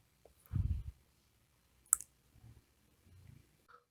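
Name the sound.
computer mouse clicking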